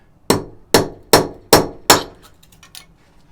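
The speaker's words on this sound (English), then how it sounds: "But I'm just going to take a punch." Five sharp metallic hammer blows ring out at a steady pace on a center punch set against brick, marking a drill spot for a doorbell mount, each strike decaying quickly, followed by a few softer taps.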